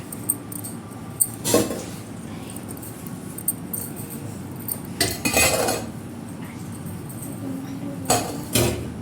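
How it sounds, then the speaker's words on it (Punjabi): Dishes and metal utensils being scrubbed and washed by hand in a home kitchen, with sharp clinks and clatters in three bursts over a low, steady background hush. "ਇਹ ਆਪਾਂ ਮਾਂਜ ਲਈਏ ਜੀ ਭਾਂਡੇ"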